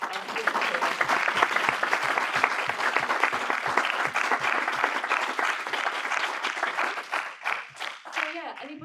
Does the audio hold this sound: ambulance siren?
no